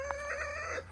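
A rooster among a small flock of chickens, with new birds just joining the group, gives a single short, close call with a steady pitched tone that holds for under a second.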